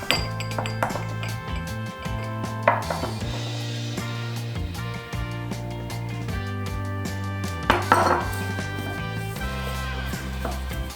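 Bonito flakes and soy sauce being mixed in a bowl for onigiri filling, heard as close, irregular clinks and taps of a utensil against the dish, with brief sharper chimes around the middle and later, over a faint background hum.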